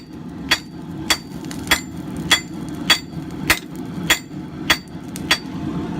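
A 3.5 pound rounding hammer strikes hot coil spring steel being flattened into a knife billet, ten sharp ringing blows landing at a steady, even rhythm, loud and close.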